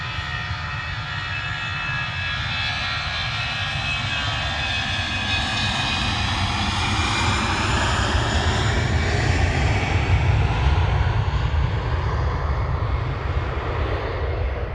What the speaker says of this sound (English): A320 off to Oslo.